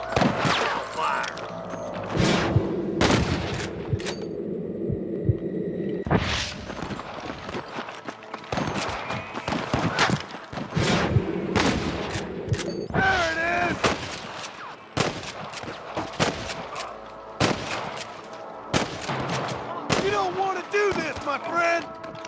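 Volleys of gunfire in the video game Red Dead Redemption, with repeated loud rifle and pistol shots cracking at irregular intervals over about twenty seconds, mixed with shouted voices and game sound.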